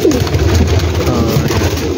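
Pigeons on a large rooftop loft in Gujranwala coo in soft, overlapping throaty calls close by, a continuous murmur from a flock kept on the roof.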